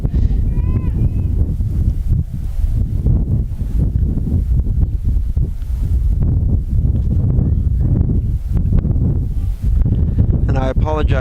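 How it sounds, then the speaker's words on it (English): Strong wind buffets the microphone at an outdoor women's college soccer game, a steady loud low rumble throughout with faint distant voices now and then. "And I apologize for the wind as we are streaming this outside,"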